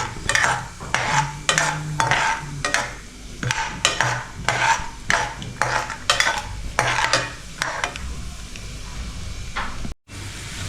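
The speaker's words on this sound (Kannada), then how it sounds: "ಇವಾಗ ಎಣ್ಣೆ ಕಾದ್ಮೇಲೆ ಒಂದು ಫ್ಲೇಮಲ್ಲಿ ಇಟ್ಕೊಂಡ್ಮೇಲೆ ಇವಾಗ ಫಸ್ಟು ಶೇಂಗಾ ಹಾಕಬೇಕು" Peanuts sizzle in hot oil on one flame while a spoon stirs them, giving a steady frying hiss broken by repeated scraping strokes, close and loud.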